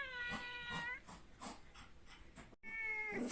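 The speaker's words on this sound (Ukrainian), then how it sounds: "і чого ти нявчиш?" A house cat meowing indoors on a rainy day, two drawn-out, wavering meows, one at the start and one near the end, quiet and close in a calm room.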